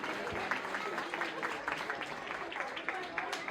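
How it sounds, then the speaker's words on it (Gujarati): A crowd at a traditional 75th birthday celebration applauds an artist, with steady, moderate clapping spread through the room and mixed with background chatter and murmuring voices. "અમારા આર્ટિસ્ટ માટે જોરદાર તાળીઓ વાગવી જોઈએ"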